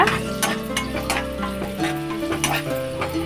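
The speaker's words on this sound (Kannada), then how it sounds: "ಎಣ್ಣೆ ಕಾಯ್ದಿದೆ, ಈರುಳ್ಳಿ ಹಾಕ್ಕೊಳ್ಳೋಣ. ಈರುಳ್ಳಿ ಬ್ರೌನ್ ಆಗೋ ತನಕ ಹುರ್ಕೊಳ್ಳೋಣ" Onions frying in hot oil while chicken chops are cooked, a steady broadband sizzle running throughout with stirring clicks and tonal hum over it, no talking.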